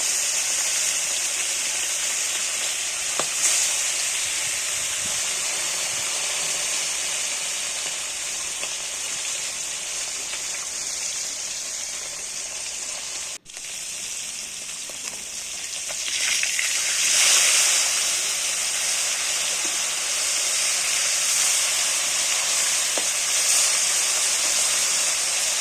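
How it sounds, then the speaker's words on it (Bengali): Fish rubbed with salt and turmeric fries in a pan for a Bengali fish curry, a loud, steady hiss and sizzle of hot oil that swells briefly partway through, close by with no talk. "দেখো মাছটা ভাজা দিয়ে বসিয়ে দিয়েছি"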